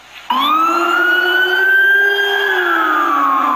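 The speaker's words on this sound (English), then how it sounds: "NYPD cop cars racing down the street at breakneck speed in a lightning-fast response to the horrific incident in Times Square" An NYPD police car siren wails loud and close in a Times Square street, starting abruptly and holding one long rising then falling tone.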